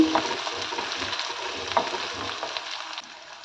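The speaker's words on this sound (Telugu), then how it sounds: "అల్లం వెల్లుల్లి పేస్ట్ వేసుకోవాలి" Ginger garlic paste fries in a hot pan with a steady, close crackling sizzle and small stirring scrapes. The sound stays continuous throughout, with no voices.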